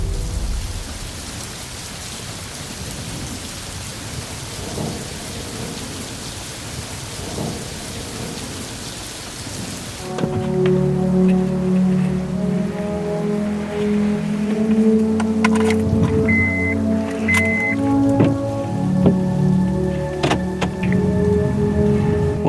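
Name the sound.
rain falling on a rainy, gloomy day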